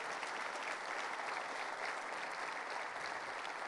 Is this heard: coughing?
no